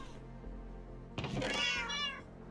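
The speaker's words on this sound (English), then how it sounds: "Meow meow." Cat meowing in Minecraft: after a second of low background hum, one drawn-out meow rises clearly, followed by a shorter second meow trailing off.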